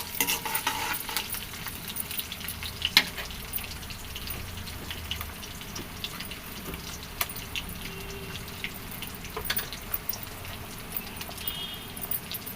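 Crushed garlic and dried red chillies frying in oil in a pan while being stirred, a steady soft sizzle with scattered scraping clinks of the spoon, close and unbroken.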